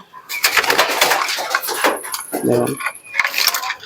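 Andhra pigeons coo and wings flap close by, with metallic jangling and someone talking over the birds throughout.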